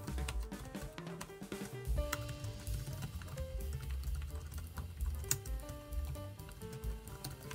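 Someone types steadily and quickly on a Lenovo ThinkPad Bluetooth keyboard, producing a dense run of crisp, close key clicks with no talking.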